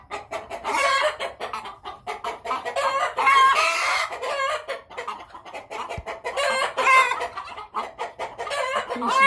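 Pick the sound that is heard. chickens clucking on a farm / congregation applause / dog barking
chickens clucking on a farm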